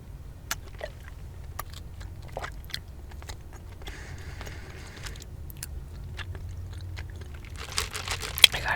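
Soft, close-up chewing of chewy tapioca pearls from bubble tea while sitting in a car, with faint sticky mouth clicks and small crunchy bites scattered across a quiet background hum.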